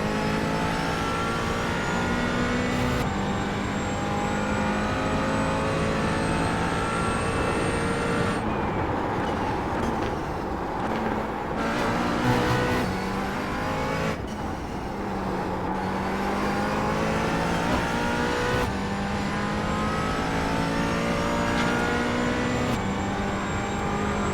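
A McLaren 570S GT4 race car laps the Imola circuit, its engine roaring loud and steady from onboard, with pitch climbing and dropping through gear changes and no talk.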